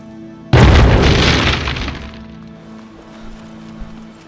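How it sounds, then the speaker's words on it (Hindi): A grenade goes off in a dubbed movie scene as a sudden, loud, booming blast with a crackling burst that rumbles and fades over a couple of seconds, leaving a low background hum. "ग्रेनेड!"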